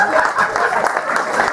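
An audience at an adult comedy club set claps and chatters in a short, loud burst of applause that has a muffled, crowded texture.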